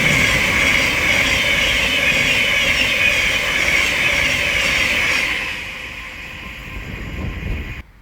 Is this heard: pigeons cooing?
no